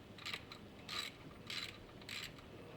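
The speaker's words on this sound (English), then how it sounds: "I'm gonna run these in snug with my 3/8 ratchet" A 3/8 ratchet snugging bolts during a Toyota Tundra 4.6L water pump replacement, giving four short bursts of faint clicking at a steady pace, close and quiet with no talk.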